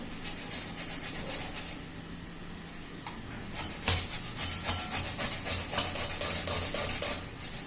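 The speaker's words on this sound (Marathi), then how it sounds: "आता संपूर्ण काकडी मी अशी किसून घेते." Fresh cucumber rubbed over a kitchen grater in quick, rhythmic scraping strokes, soft and close, with no talking.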